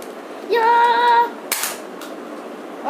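Video game gunfire: a few sharp, clipped shots with bright metallic ringing, one standing out loudly near the middle, against a quiet background.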